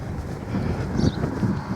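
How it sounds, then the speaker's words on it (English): Outdoor wind buffeting a microphone, a steady low rumbling roar with gusty swells throughout and no speech over it. "It's a bit windy here."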